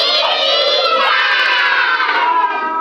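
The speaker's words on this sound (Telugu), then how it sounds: "ఎందుకు అట్లా అరుస్తున్నారు?" A group of schoolchildren in a classroom shout loudly all at once, a dense, continuous wall of high-pitched excited voices close by, with no pauses throughout.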